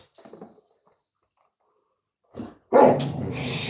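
A dog gives a brief bark and some whimpering sounds indoors, followed by a louder burst of noise and movement close by.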